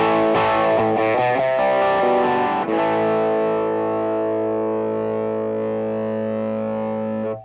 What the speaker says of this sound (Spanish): voy a jugar un poco con la distorsión del pedal y voy a jugar un poco con el tono